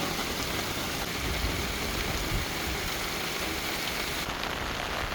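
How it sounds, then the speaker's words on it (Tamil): Heavy rain pours down in a dense, constant hiss with pattering drops, loud and close throughout, with no voices. "உங்களுக்கு இப்போ பார்த்தீங்கன்னா விலங்கும் மழை ரொம்ப அதிகமாக பெய்ஞ்சிட்டு இருக்குது."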